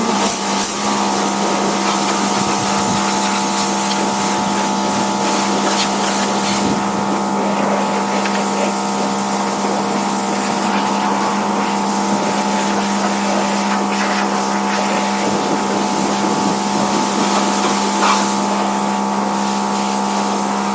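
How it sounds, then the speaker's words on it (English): An electric pressure washer fitted with a 40-degree tip sprays continuously outdoors, a steady motor hum with a constant hiss of water running throughout, close and fairly loud, with occasional faint wind buffeting. "PSI pressure washer, which I will be using all summer long."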